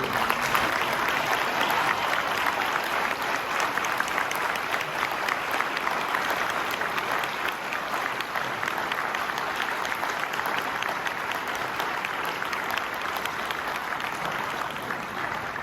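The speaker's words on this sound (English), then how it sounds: "please stand up right now and receive an appreciative round of applause" A large audience applauds steadily and loudly, a dense, sustained wash of clapping that holds at the same level throughout.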